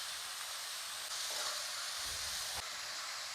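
Shallots and onions fry with salt and a handful of curry leaves in a pan for chicken curry, making a soft, continuous hiss that swells slightly partway through.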